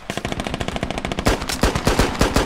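Sustained machine-gun fire from a US Army assault in an Iraqi city in the Squad shooter game, fast rhythmic bursts of loud close shots with heavier reports joining halfway through.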